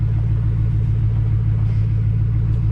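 A truck engine idles steadily with a deep, constant low rumble while the steering wheel is turned fully left and right to cycle fresh power steering fluid, with no talk.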